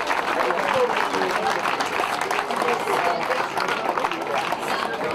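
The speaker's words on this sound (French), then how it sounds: "Donc on les applaudit doublement et on va leur remettre à chacun un trophée" Applause from a crowd honouring the referees at a youth football tournament, dense steady clapping with chatter and shouts mixed in, sustained throughout at a moderate distance.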